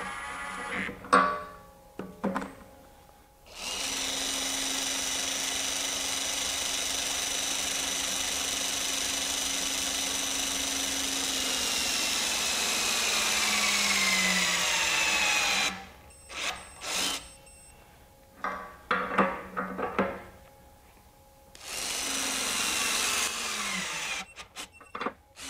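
A RIDGID R86211 high-torque impact wrench snugs lug nuts in long, loud whirring bursts that hold steady for several seconds, then stop, separated by short clanks and quieter handling noises.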